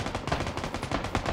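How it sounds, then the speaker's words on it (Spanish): Rapid gunfire rattles in quick bursts in PlayerUnknown's Battlegrounds, sharp shots stacking into an automatic stream at moderate distance with no speech. "¿Dónde está disparando?"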